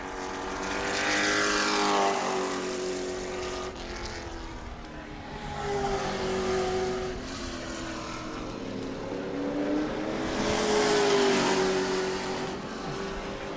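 Pro Truck racing engines roar continuously during a practice and qualifying session at New Smyrna, rising and falling in pitch as trucks accelerate and pass, loud and fairly close, with no talking.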